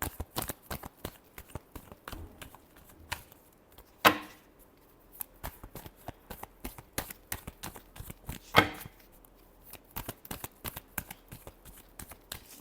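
Tarot cards are shuffled by hand, a dense run of quick, close riffling flicks and slaps with a few louder snaps, steady for the whole stretch.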